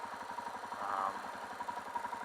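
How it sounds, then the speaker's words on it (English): A motorcycle engine idles steadily on a shakedown ride, a quiet, even, rapid chugging pulse that holds throughout, with a brief slight swell in the middle. "Bike is idling good."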